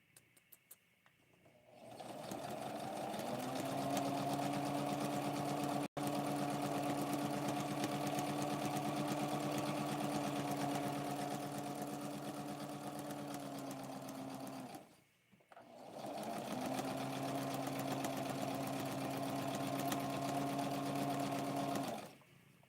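A sewing machine stitches doll clothes at a very small stitch size, running in two long, steady bursts of fast mechanical whirring with a pause between them, close and fairly quiet, with no voices.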